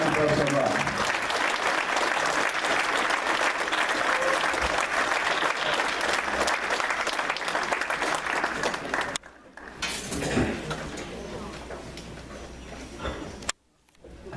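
Audience applause for Doug and Liz at an event, a dense, sustained clapping that fills most of the stretch, then thins into a brief lull, swells again and cuts off near the end.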